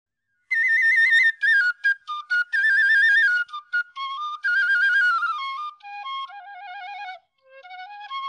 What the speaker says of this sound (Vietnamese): Âm thanh tiếng sáo thì nghe vi vu.